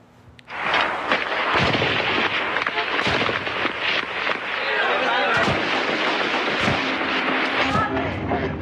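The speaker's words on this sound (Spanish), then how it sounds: "Cuando disminuyó el tiroteo" Dense, rapid gunfire crackles and booms through street clashes in Venezuela, sustained and loud with sharp individual reports standing out over a constant roar, mixed with shouting crowd noise.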